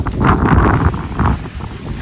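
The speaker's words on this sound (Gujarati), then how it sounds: "જો કેટલો મસ્ત પવન આવે નો" Strong outdoor wind gusts buffet the microphone in loud, surging rumbles among swaying trees, rising and falling across the moment.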